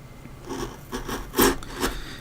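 Steel chisel carving a wooden dragon figure, several short scraping cuts at an uneven pace with one louder cut in the middle, close and fairly quiet, with no voices.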